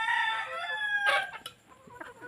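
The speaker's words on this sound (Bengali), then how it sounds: "এগুলো সব আমার দেশি মুরগি।" A desi rooster crows once among backyard chickens, followed by soft scattered clucks from the hens, fairly faint and with no people talking.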